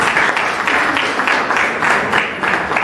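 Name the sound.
applause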